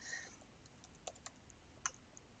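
Typing on a computer keyboard in an office, with a few quiet, scattered key clicks sounding close but faint against a low background hiss.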